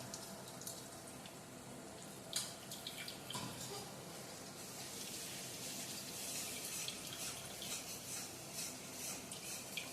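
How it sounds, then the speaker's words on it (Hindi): Grated white pumpkin squeezed by hand to press out its water, a soft continuous trickle and patter of liquid with occasional wet squelches, close and fairly quiet. "पानी हम हाथों से निचोड़ेंगे"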